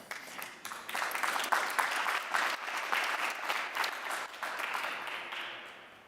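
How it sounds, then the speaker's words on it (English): Audience applause at the opening event of a quantum-computer fabrication facility, a steady, dense round of clapping lasting several seconds with no talk over it. "So the applause is to you."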